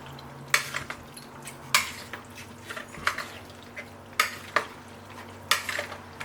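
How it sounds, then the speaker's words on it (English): A spoon stirs a nopales salad with pepper and sea salt in a bowl, giving close, repeated scraping and clinking strokes in an irregular rhythm over a faint background hum. "And we stir to combine."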